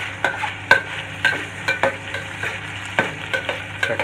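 Ham fries in a pan with a steady, soft sizzle, broken by rhythmic scraping and tapping as a utensil stirs it, close up and with no voices.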